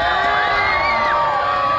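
Spectators at a live lumberjack log rolling show at the PNE cheer and whoop loudly, with children's high shouts rising above the sustained crowd roar.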